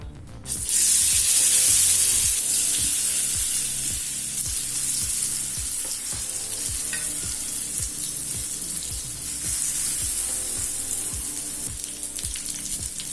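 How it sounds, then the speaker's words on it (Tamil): Elephant yam slices fry slowly in oil on a dosa tawa, making a continuous close sizzle with a bright hiss at the start that settles into an even crackle, with no talk. "ஸ்லோலே வச்சு சேனக்கிழங்கு பொரிங்க"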